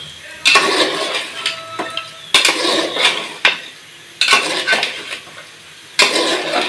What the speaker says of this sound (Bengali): আলু সহ আরো কিছুক্ষণ কষাবো, জাল কমিয়ে দিয়ে।